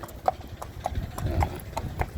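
Hooves of a horse striking ground in a quick, regular clip-clop at a racetrack, sharp distinct hits spaced about every quarter second over a low rumbling background.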